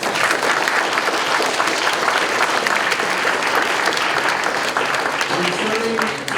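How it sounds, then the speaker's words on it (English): Dense, loud audience applause at a spelling bee championship, continuous clapping from a large crowd with faint voices mixed in near the end. "Let's give all of them a big round of applause."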